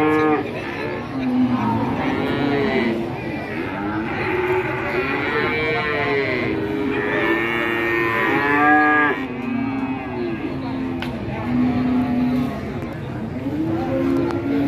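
Cattle lowing at a busy outdoor cattle market in Indonesia: several long, drawn-out moos follow one another and overlap, some near and some farther off, over a steady murmur of crowd and market noise.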